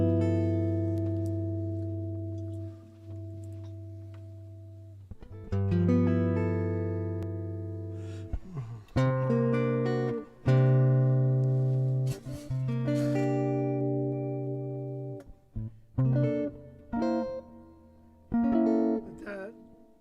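A warm, hollow-bodied 1975 Ibanez 2461 archtop guitar rings out with sustained chords and picked single notes, letting phrases decay between strums, heard up close without talk.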